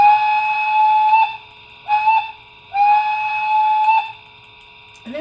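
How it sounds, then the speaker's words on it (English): An LGB Stainz model locomotive with a Zimo MS450 sound decoder sounds its warning whistle, like a highway crossing signal: three loud, close steam-whistle blasts, long, short, then long, with brief silences between. "And that's kind of your warning whistle, or like highway crossing whistle."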